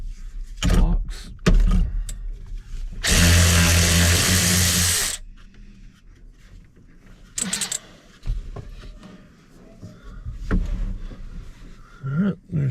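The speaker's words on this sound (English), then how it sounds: "electric ratchet" Electric ratchet spins a steering wheel nut off a Chevy 1500 pickup in one loud, steady burst lasting about two seconds, with clunks and handling knocks before and after.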